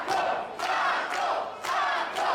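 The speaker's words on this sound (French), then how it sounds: "Et la foule qui est derrière Johnny Taco" A wrestling arena crowd cheers and roars loudly and steadily during a live independent wrestling show, with swelling bursts of yelling rising and falling over a couple of seconds.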